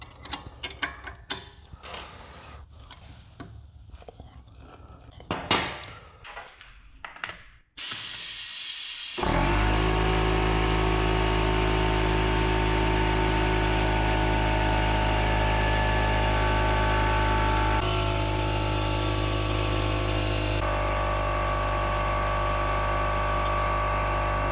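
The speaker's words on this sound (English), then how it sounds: "this really annoying noise from this air compressor" A steady, loud air compressor drones continuously during a brake fluid flush on a 2014 Shelby GT500, preceded by scattered clanks and mechanical clicks of garage work.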